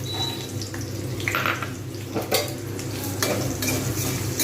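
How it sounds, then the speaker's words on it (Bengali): Onions fry in a pan with whole garam masala and black pepper, a soft steady sizzle with occasional stirring scrapes and clinks of a utensil, close and fairly quiet, no talking. "এবারে এতে দিয়ে দেবো পেঁয়াজ একসঙ্গে এটা ভাজা ভাজা হবে"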